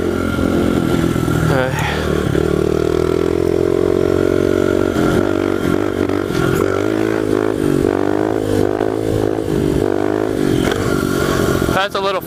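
A pit bike ridden in fourth gear, its small engine droning loud and close with rising and falling revs throughout, a rider speaking briefly over it.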